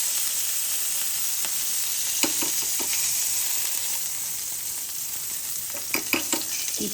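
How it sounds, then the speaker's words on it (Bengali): Brinjal pieces frying in mustard oil with salt and turmeric give a steady, close hiss of sizzling, with a few soft clinks and stirring knocks. No one talks. "আবার এই তেলে আমি একটু বেগুনটা ভেজে নেবো।"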